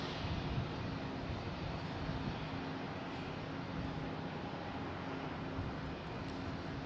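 Steady, continuous engine drone of an airliner taxiing at Boston Logan airport, heard from a distance as an even, unbroken roar with no voices.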